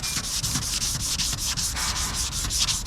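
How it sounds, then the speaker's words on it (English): A car body panel is hand-sanded along a masking tape line, giving a fast, even back-and-forth rasp in quick rhythmic strokes, loud and close with no pauses or voices. "So you want to sand backwards and forwards, but twist at the same time."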